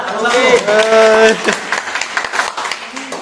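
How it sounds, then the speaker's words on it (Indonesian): A student audience at a campus election event gives a short round of clapping over and after a voice, then trails off into scattered claps. "Tepuk tangan dulu buat Pak Yusita."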